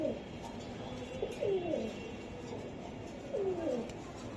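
Budapest racer pigeons coo inside a cage, with several soft, rolling calls at about 1.5 seconds and again near 3.5 seconds over a faint background hiss.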